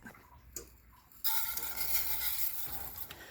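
Rice browning in hot oil in a pan for Spanish rice: after a couple of soft taps, a steady close sizzle of frying starts suddenly and carries on, broken by faint stirring scrapes, with no talk.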